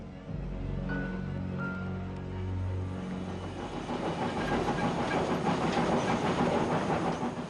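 A train rolls along rail tracks, steady rhythmic clattering and hiss building louder in the second half, alone with no voices, tied to Eichmann's wartime deportation trains in Europe.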